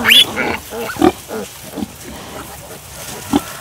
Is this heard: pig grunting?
yes